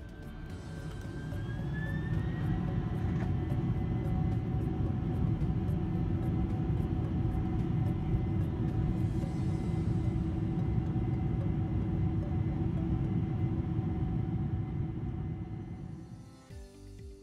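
A KLM Boeing 747 taxis to the runway, heard from inside the cabin as a steady low rumble and whine that holds for most of the stretch before easing off near the end.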